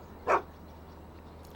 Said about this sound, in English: There's a dog over there.